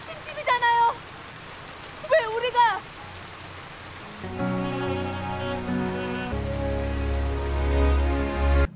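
Heavy rain pours in a film scene, a steady hiss that swells and deepens in the second half, with a low rumble underneath and a few short vocal cries early on.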